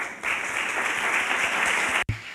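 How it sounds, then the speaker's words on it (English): An audience at the San Sebastian film festival prize ceremony gives steady applause for an award winner, dense and even, then cut off abruptly near the end. "A big round of applause, please."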